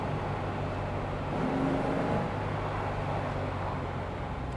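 A Porsche 356 engine pulls hard under acceleration, a steady, dense drone heard from inside the car, with road and wind noise running throughout and no talk.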